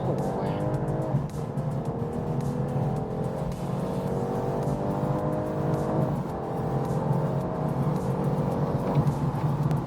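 Modified BMW 4 Series G22 coupe accelerating hard on an expressway, engine note climbing steadily through the gears with a continuous loud drone and rising harmonic sweeps, heard from inside the car.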